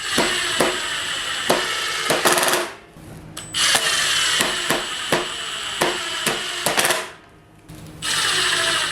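A Milwaukee M18 impact driver drives screws into wood in loud, rapid hammering bursts, with short pauses between runs and a brief silent gap before the next screw.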